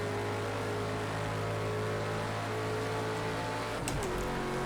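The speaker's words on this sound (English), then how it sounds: "This is my first time driving this car." A race car engine in the Project Cars 2 driving game drones steadily through the whole stretch at a fairly quiet level, its tone shifting near the end with a brief change in pitch.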